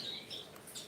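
Small birds chirp faintly near bird baths, with soft, scattered tweets and a brief high call near the end against quiet surroundings.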